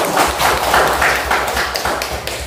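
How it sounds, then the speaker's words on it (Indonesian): Classroom students clapping their hands together in quick, rhythmic, steady bursts of applause, close and lively, with a low thumping beat running underneath. "Tepuk tangan buat kalian"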